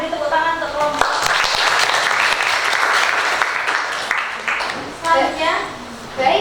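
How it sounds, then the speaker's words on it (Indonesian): Classroom applause for a student group during an open-class Indonesian language lesson, with dense, steady clapping from many hands that swells and then thins out, with children's voices chattering over the final seconds. "Kita beri tepuk tangan untuk kelompok."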